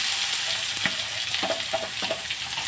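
Onion and garlic fry in a pan of oil with a continuous bright sizzle, broken by a few close clicks and scrapes from stirring.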